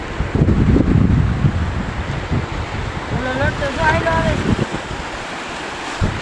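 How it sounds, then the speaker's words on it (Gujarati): Sea waves surge onto the shore near the Mota Gopnath Mahadev temple, a steady broadband wash with wind buffeting the microphone and a brief voice-like tonal sound partway through. "આમ દરિયાની મોજ જવો પેલા"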